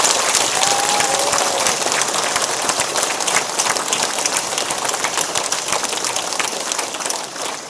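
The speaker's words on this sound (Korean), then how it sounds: "격려의 박수를 드립니다." A large audience applauds at a book publication celebration marking a Korean girls' middle and high school's 70th anniversary, loud dense clapping sustained throughout, with a brief whistle-like tone early on.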